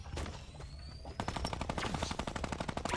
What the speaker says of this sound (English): Shoot that gun.